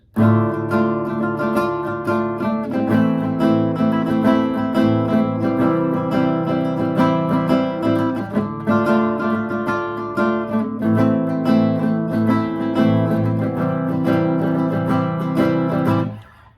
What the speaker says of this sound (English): And so if you add your chords to it, it sounds like this.